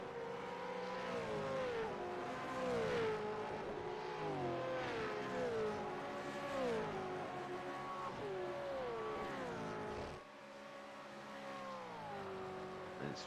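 Gen3 V8 Supercar race engines, Ford Mustang and Chevy, in a sim racing game: several engines rise and fall in pitch through repeated gear changes, with a sharp drop near the end before revving resumes more faintly.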